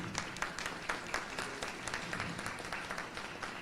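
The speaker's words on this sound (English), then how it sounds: "Round of applause, ladies and gentlemen." Steady applause from an audience at an investors' summit in a Sheraton hotel fills the whole stretch, a dense patter of many hands clapping at moderate volume with no voices on top.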